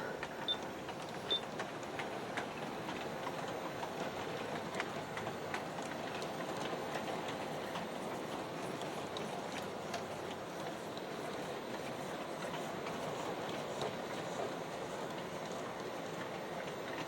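A G scale model of the Napa Valley Wine Train runs steadily along a track, with a soft continuous rumble and light rhythmic clicking, fairly quiet and unaccompanied by voices.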